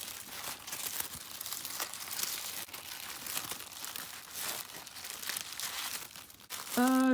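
Continuous crinkling and rustling of tissue paper, close and fairly loud, with a brief tonal sound at the very end.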